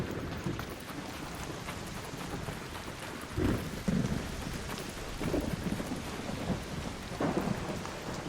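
Steady rain hiss with low thunder rumbles rolling through during an electrical storm in the video game ARC Raiders, fairly quiet and continuous with no one talking.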